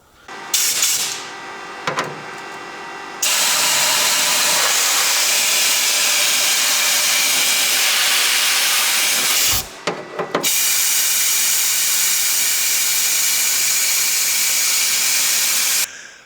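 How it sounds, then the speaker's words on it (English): A small mobile canister sandblaster, used on a barn-find Porsche 356 under restoration, blasts grit through its nozzle as a loud, steady broadband hiss running for long stretches, broken by short bursts and one brief pause. "I've tried to fire up this little mobile sandblaster that I've got."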